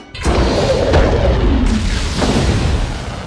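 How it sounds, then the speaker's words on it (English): Nuclear missile launching in the animated film The Iron Giant: a sudden loud blast that swells into a long, roaring rumble, holding steady before slowly fading over a few seconds. "Mansley ends up launching a nuclear missile at the giant"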